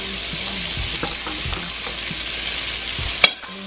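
Butter sizzles steadily in a hot pan with low scraping and stirring knocks throughout, and a sharp clack near the end as a utensil strikes the pan; no one speaks.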